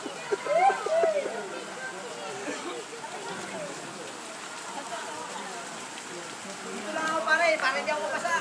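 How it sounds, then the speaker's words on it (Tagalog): Rain falls near a waterfall, a constant hiss of drops on surfaces beneath frequent nearby talking that swells at the start and again near the end. "Lalakas na pare ulan."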